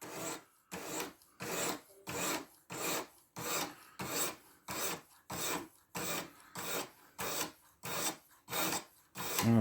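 Steady rhythmic strokes of a 14C28N steel knife blade drawn across a 600 grit sharpening stone, about thirteen even rasping passes with short gaps, close and quiet with no talk.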